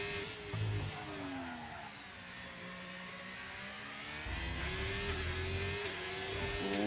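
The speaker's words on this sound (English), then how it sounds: "Almost hear the car wheel spinning slightly before the TC kicked in." Race car engine in a racing video game at the Qatar circuit, rising and falling revs as the car powers through corners with a slight wheelspin, moderately quiet and steady without talk.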